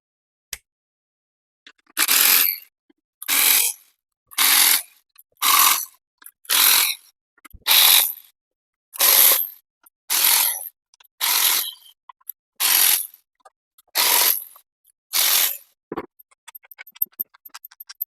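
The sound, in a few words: torque wrench tightening Suzuki GSXR750 bolts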